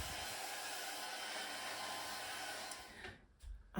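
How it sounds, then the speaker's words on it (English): A blow dryer drying fine coily hair roars in a steady, close, loud whoosh, then sputters and cuts off near the end. "So I'll use my dryer."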